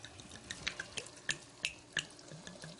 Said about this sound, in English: I'm going to pour about half a bottle in